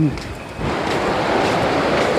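Surf rolling onto Hua Hin beach on the Gulf of Thailand in the evening: a soft start, then a broad, continuous wash of breaking waves close by, with no clear speech.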